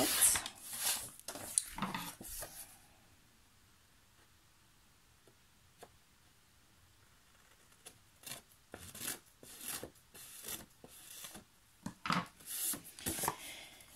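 Paper or card material is cut to size for a desk notebook holder: scattered snips and scraping strokes at close range, busier at the start and end with a quiet stretch in the middle, no voices.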